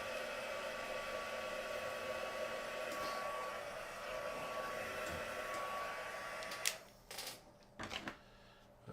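A hair dryer blasts air onto a handmade card, a loud steady whoosh lasting several seconds before it clicks off. Light tapping and handling noises follow.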